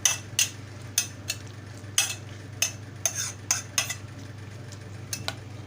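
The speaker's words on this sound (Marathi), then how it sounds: "आता मिश्रण छान एकजीव करून घ्यायचं आहे" Spoon scraping and clinking against a bowl while stirring a Malvani-style dahi koshimbir, yogurt salad with salt, in a series of sharp, close strokes over a low steady background hum.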